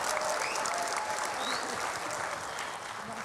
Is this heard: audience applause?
yes